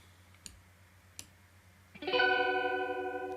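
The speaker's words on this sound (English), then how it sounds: "now we're definitely getting that chorus effect" Two faint clicks, then a bright sustained synth-like chord swells in with a shimmering, doubled, slightly wavering chorus texture that holds steadily to the end.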